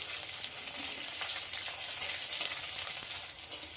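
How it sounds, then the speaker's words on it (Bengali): Garlic and chopped onion fry in oil in a pan, giving a steady, close hiss of sizzling with a few faint stirring scrapes, fairly quiet and without any voices. "সব কিছুকে একটু হালকা ভেজে নেব।"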